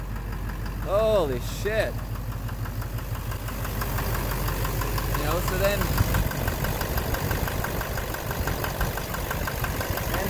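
A Duramax LMM diesel engine idles with a steady, close rumble and a repetitive knock from the bottom end, while someone talks over it at times.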